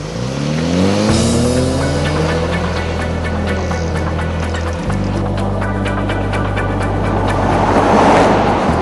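A Range Rover Velar P250 petrol car drives along with its engine note loud and steady throughout, shifting pitch once partway through as the gear changes, with road and tyre noise beneath.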